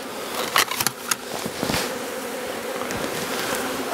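Honey bees swarm and buzz close by during a shook swarm from a hive, a continuous droning hum with a few brief knocks and rustles early on.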